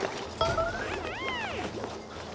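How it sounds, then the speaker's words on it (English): A rock crusher machine being set up in the Cold Ceres colony game, with a mechanical clunk followed by rising and falling whirring tones and a metallic ringing sweep. "Builder setting up the rock crusher."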